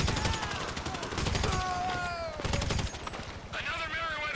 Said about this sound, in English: Dave, who are you shooting at?